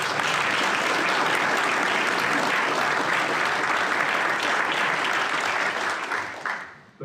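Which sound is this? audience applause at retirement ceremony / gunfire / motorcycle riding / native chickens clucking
audience applause at retirement ceremony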